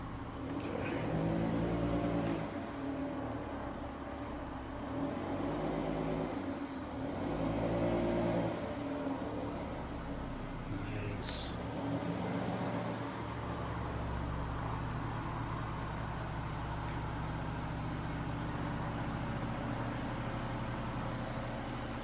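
A green Ford Mustang's engine runs steadily nearby, with deep low rumble and a few swelling revs early on before settling into an even idle, no voices.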